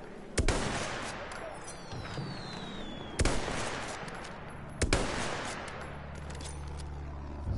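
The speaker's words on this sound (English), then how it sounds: "Machine gun!" Machine gun fire in a war video game, three sharp, loud bursts a second or two apart, each cracking out over a rumbling battlefield backdrop with a faint whistling sweep between them.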